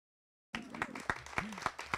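Audience at a migrant education speech competition awards ceremony breaks into applause with whoops after silence, sharp claps and cheers rising loud and close for a couple of seconds.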